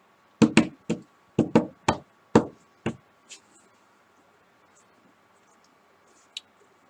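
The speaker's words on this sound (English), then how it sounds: "just by knocking the edges and the corners down." A small lump of clay being knocked on its edges and corners against a hard surface for a three-footed pinch pot: about eight dull thuds in an irregular quick rhythm, close and fairly loud, fading out, then one faint tap.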